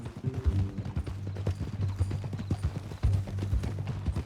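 Horse hooves in Red Dead Redemption 2 clip-clop in a quick, steady rhythm close by, each step a distinct knock, with a low hum underneath and no talking.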